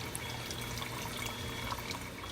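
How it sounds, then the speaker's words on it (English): Water pours into a pressure cooker holding spiced raw meat, a faint continuous splashing and trickling stream with no voices. "just added the water"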